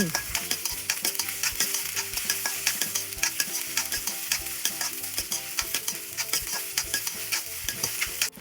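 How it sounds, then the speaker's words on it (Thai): Sausage is stir-fried in a wok for Thai basil stir-fry: loud continuous sizzling with rapid, repeated scraping and tossing strokes of a spatula, up close and without talk. "ใส่ไส้กรอบลงในกระทะได้เลย ผัดคลุกเคล้าให้เข้ากัน"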